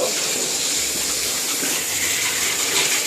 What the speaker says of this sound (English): we're going to go ahead and rinse her off now that it's all massaged in